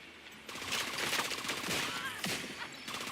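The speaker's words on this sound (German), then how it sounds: "Wieder so ein Schuss." Gunfire in the shooter game The Division 2 comes as faint, rapid bursts of shots rattling over a quiet background.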